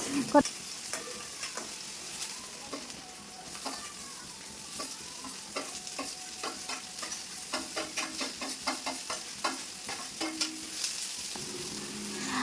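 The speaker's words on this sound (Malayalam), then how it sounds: "ഇഞ്ചിയും വെളുത്തുള്ളിയും സവാളയും കൂടി ഇട്ടിട്ട് എണ്ണ ഒഴിച്ച് നന്നായിട്ട് വഴറ്റിയെടുക്കണം" Onion, ginger, garlic and green chilli sauté in oil, a soft steady sizzle under repeated scraping and tapping of a spoon against the pan, fairly quiet and close.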